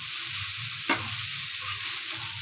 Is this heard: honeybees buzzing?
no